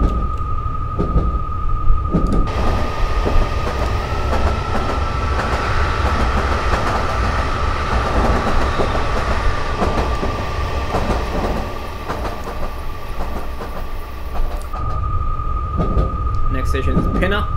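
A Metropolitan Line train in Train Simulator 2018 runs between Northwood Hills and Pinner, its motor hum steady and loud, with a sustained whining tone and faint rail clatter throughout.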